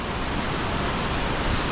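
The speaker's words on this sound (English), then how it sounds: "It's crazy how the waterfall just runs all day, all night." Waterfall in Longshui Gorge, China: a steady, loud broadband rush of falling water that runs unbroken throughout, with no voices.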